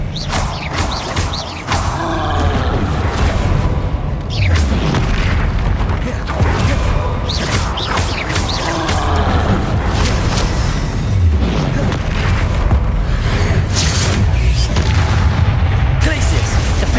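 Spell effects from the Hogwarts Legacy video game, including Expelliarmus, sound as loud bursts and booming impacts in quick succession over a dense, continuous battle din, with a voice heard at times.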